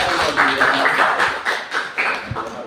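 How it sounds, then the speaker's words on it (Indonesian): A roomful of people applauds together at the close of a school presentation, a steady busy patter of clapping with a few heavier taps mixed in. "Sebelum saya tutup, mungkin kita berikan tepuk tangan untuk kita semua."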